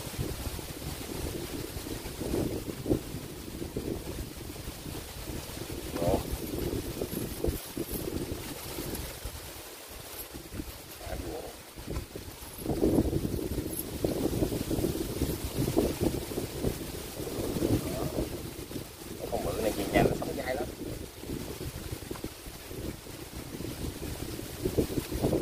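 Strong wind roars continuously across the microphone out in open fields, a dense buffeting rush that swells and gusts for the whole stretch with no voices on top.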